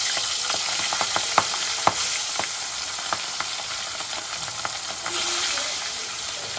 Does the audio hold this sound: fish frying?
yes